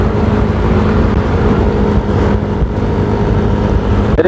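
A motorcycle is ridden along the road, its engine giving a loud, steady drone mixed with wind rush throughout, with no break or pause and no voices.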